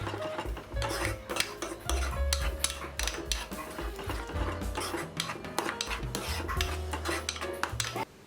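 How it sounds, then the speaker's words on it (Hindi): A spoon scrapes and clanks against a kadhai while spices are stirred together for restaurant-style dal makhani, brisk rhythmic metallic knocks and rubbing close up without talking. "सारे मसालों को मिक्स कर लेंगे"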